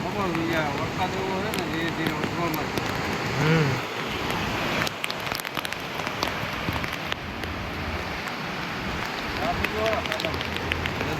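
Rain pours steadily during severe flooding in Junagadh, Gujarat, a dense continuous hiss of falling water that fills the whole stretch while voices talk over it.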